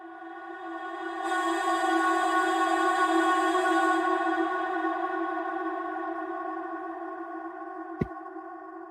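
A sustained tonal chord rings out and slowly fades into a long, washy reverberant tail, ending with a brief sharp click near the end.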